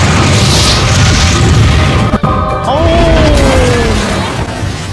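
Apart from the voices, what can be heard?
explosion in a video game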